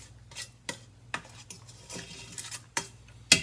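A utensil stirs organic quinoa in a pan, scraping and clinking against the metal in several separate strokes over a low steady hum, with a sharper clink near the end.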